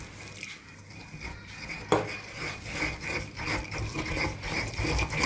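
Oil, gum arabic and water stirred steadily in a container to form an emulsion, giving a continuous scraping, rubbing swish with a small knock near two seconds, no voices.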